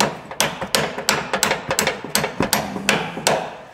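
Hammer blows on a seized ball joint of a 2007 Chevy 1500 ring out in a rapid, loud, close series of metallic strikes, about two per second, each with a short ringing decay and no voices.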